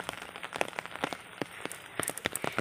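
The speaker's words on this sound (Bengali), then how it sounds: "জানি না বৃষ্টি কখন থামবে," Monsoon rain falling in a village, heard as scattered drops pattering and tapping on a nearby surface over a soft wash of rainfall, fairly quiet, with no voices.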